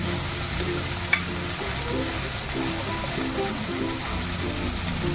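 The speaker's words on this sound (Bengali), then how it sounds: "শাকগুলো প্রায় বেগুনের সাথে ভাজা ভাজা হয়ে গেছে" Leafy greens and brinjal frying in a pan over medium heat, a steady close sizzle with soft repeated stirring scrapes throughout.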